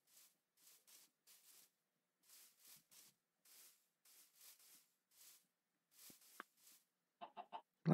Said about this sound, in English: A lot of chickens, I guess you could say.